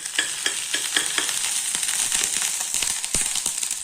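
Grated coconut fries in ghee with a bright, crackling sizzle and rapid popping, close and steady, with scraping stirs now and then.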